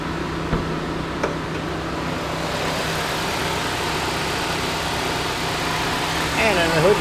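The 2.2-liter engine of a 2007 Chevrolet HHR idles with a steady, even drone throughout, heard from close by, with a couple of faint clicks near the start.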